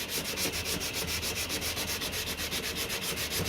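Filler on a Mk2 Escort door sill is dry-sanded with 240 grit paper in quick, even back-and-forth strokes, a close, steady rasping rub with no talk.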